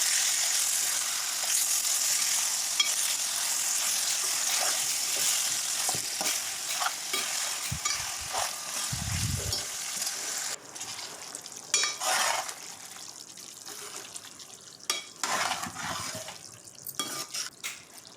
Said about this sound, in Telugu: అందులో మనము ఫ్రెష్ చేసి పెట్టుకున్న చికెన్ని కూడా వేసేసుకోవాలి. వేసుకున్న తర్వాత దాన్ని కూడా అంతా కలుపుకోవాలి.